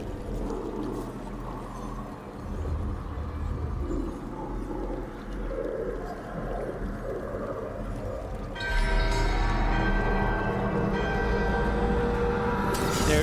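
A bell in the video game Dragon Age: The Veilguard rings out as a ritual wakes it, deep resonant tolling over a low rumbling bed, swelling louder and brighter partway through with layered chiming overtones.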